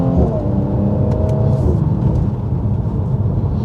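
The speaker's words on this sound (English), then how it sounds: "the sound of the pops and bangs in the exhaust is going to bounce" Mercedes C43 AMG with a 400 hp engine, exhaust rumbling loudly and echoing off nearby trees while driving, deep continuous drone with a few sharp crackles from the pipes.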